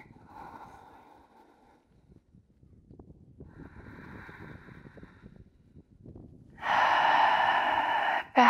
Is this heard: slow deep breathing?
yes